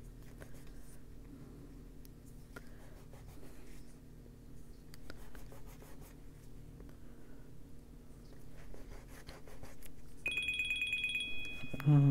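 A telephone rings near the end with a bright electronic tone, loud and close, following a stretch of quiet pencil or marker scratching during a coloring session.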